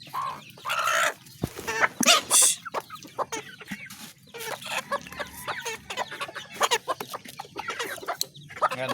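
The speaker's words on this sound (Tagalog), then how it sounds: "Lima po ang sisiw niyan bagong pisa." Hen with five newly hatched chicks, a repeated run of clucks and high chick peeps close by, some loud and some soft, with no talking.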